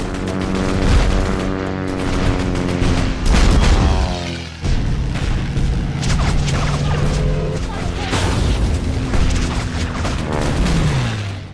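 Anti-aircraft guns firing with heavy booming explosions, loud and dense, in a dramatized wartime naval battle against an attacking Japanese plane, with bursts of blasts and rumbling crashes continuing throughout.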